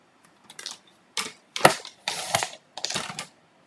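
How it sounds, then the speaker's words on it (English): Several separate crisp cutting strokes of a paper trimmer slicing through a strip of paper printed with Merry Christmas, each a short dry crunch with pauses between, close and fairly quiet. "I'm going to take my paper trimmer and I'm going to cut the Merry Christmas"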